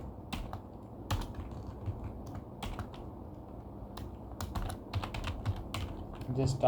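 Quick irregular keystrokes clatter on a computer keyboard close up, bursts of sharp taps with short pauses against a quiet room hum.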